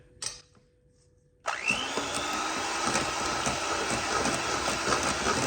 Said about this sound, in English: Now we're gonna put our cream cheese over into the egg yolks. And we're gonna beat that up a little bit.